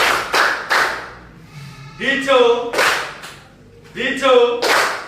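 A class plays a colour-call clapping game, answering each called colour with a set number of hand claps: crisp, loud bursts of clapping come in short groups between a single voice calling out cues.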